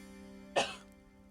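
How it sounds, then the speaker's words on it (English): A single close cough bursts out sharply and fades quickly, over a steady low electronic hum. "why am I coughing?"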